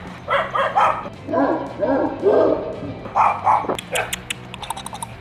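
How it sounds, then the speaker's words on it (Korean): Dogs bark outdoors in repeated close bursts, the deeper barks mixed with higher yips and short gaps between volleys. "갑자기 막 개가 짖어요"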